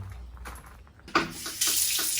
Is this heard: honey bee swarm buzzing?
no